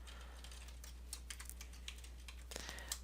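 Light, quick clicks of typing on a computer keyboard as an email address is entered, soft and close, in irregular runs over a low steady hum.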